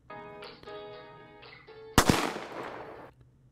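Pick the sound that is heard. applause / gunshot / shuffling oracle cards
gunshot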